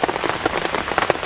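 Heavy rain pelting a camping tent during a severe thunderstorm, a loud, close, dense patter of drops hitting the fabric continuously, with no voices.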